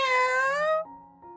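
A cat lets out one drawn-out, rising meow followed by short, softer lower tones, close and clear with no talking.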